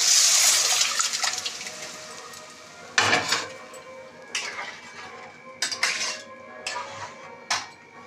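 Cooked lentil dal poured into a pan in a home kitchen for a vegetarian niramish dal, heard as a wet slosh and spatter followed by several sharp clinks of a utensil against the pan, close and alone.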